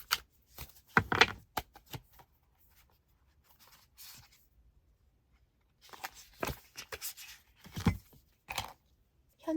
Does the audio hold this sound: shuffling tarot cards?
yes